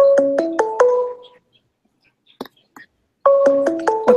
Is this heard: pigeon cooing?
no